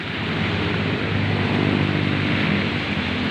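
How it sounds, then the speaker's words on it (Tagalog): Constant heavy wash of choppy sea waves, loud and unbroken, a thick rushing surf noise that swells slightly midway with no speech. "nagkagulo yung mga alon"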